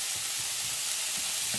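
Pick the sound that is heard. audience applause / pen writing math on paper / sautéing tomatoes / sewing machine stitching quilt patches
sautéing tomatoes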